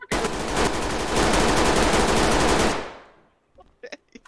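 A loud, sustained burst of automatic gunfire from an Uzi in the video game Ready Or Not rattles for about three seconds, then cuts off, followed by a few faint clicks and thuds.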